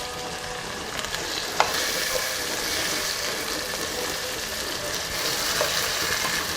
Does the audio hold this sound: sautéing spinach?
yes